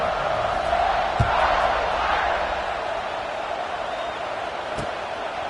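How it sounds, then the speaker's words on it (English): A college football stadium crowd roars in a broad, steady wash of cheering and shouting, with a couple of sharp thuds cutting through the sustained noise. "this crowd is feeling themselves after that last drive"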